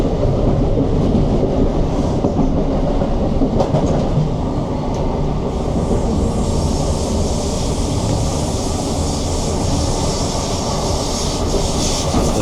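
ScotRail train travelling the Larkhall to Balloch line through western Glasgow, a steady loud rumble of wheels and carriage noise throughout, with a brighter hiss of running noise building in the second half.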